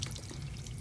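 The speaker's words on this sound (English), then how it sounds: "we can now turn on the sink" A sink faucet runs steadily, a continuous close hiss of flowing water with no pauses.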